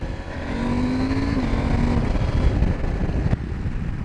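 A 2020 KTM 790 Adventure S motorcycle engine hums steadily while riding, a continuous loud drone mixed with wind rush, briefly rising in pitch before settling.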